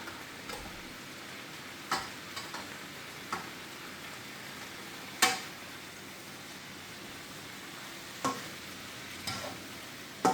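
Vegetables cooking down in a pan for a vegan burger: a faint steady sizzle throughout, punctuated by occasional sharp clicks and taps of a utensil, with no talk.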